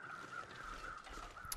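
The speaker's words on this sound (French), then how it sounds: "Les corbeaux qui sont passés." Crows caw faintly in The Long Dark's wilderness, a few hoarse calls drawn out across a quiet outdoor ambience.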